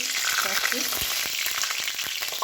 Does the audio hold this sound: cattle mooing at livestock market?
no